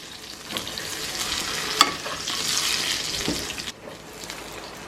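Chile rellenos cook in sauce, giving a soft hissing sizzle with a few sharp clinks and stirring sounds that fade toward the end.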